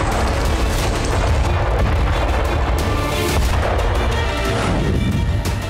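A K9 Vajra 155 mm self-propelled howitzer fires shells in a run of heavy booms and blasts, dense and loud throughout with rumbling echoes between discharges.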